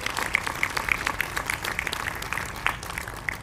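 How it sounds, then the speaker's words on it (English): Audience applause for priests at a Catholic school grand opening and blessing ceremony, lively and fairly loud with distinct sharp individual claps standing out over a steady patter, no one speaking over it. "Let's give our priest a round of applause."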